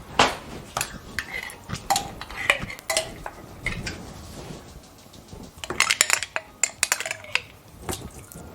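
Mincemeat being spooned from a jar for a homemade fruitcake, with clinks of a spoon against glass and soft wet scraping, close by, with bursts of quicker clinking near the end.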